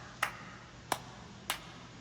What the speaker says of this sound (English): these are claps that I just recorded into the mic